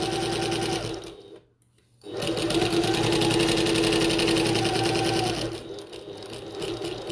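Sewing machine stitching a 3/8 inch seam on a bucket tote bag: a loud, steady, rapid mechanical whirring close by, stopping briefly for a pause, then running again and slowing toward the end.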